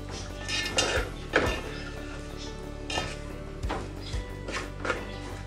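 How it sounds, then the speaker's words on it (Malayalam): Broken wheat and sugar being stirred and roasted in a pan, with irregular scraping and clinks of a spoon against the metal over a faint sizzle, close and fairly quiet. "ഇതിന് വീണ്ടും ഒന്ന് ഇളക്കി മൂപ്പിക്കാം."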